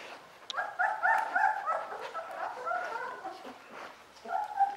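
Eighteen-day-old puppies whimper and whine close by in a string of rising, overlapping cries that briefly fade in the middle and then return.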